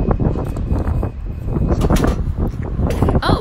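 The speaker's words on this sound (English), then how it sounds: "We do a shoot outside and it's windy." Strong gusty wind buffets the microphone continuously, rumbling and crackling in uneven bursts outdoors.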